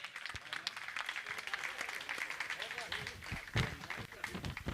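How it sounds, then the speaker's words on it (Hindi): At a Jain religious gathering, an audience gives a round of clapping in honour of a family, with irregular, uneven claps and sharper individual hand strikes standing out, mixed with voices in the hall. "मैं चाहूँगा जोरदार ताली बजा के सम्मान करें।"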